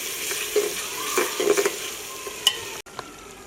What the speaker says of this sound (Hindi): टमाटरों को थोड़ी देर के लिए भून लेंगे।